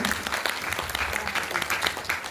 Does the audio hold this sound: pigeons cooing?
no